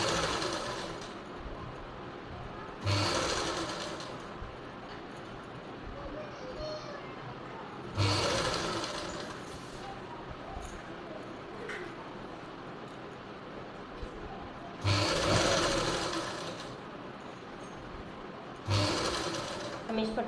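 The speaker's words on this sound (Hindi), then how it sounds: "यहाँ से इस तरह से सिलाई लगाएंगे" Short bursts of a sewing machine stitching a strip of fabric onto a baby frock: about five rapid, whirring runs separated by pauses, close and fairly loud, with a voice talking between them.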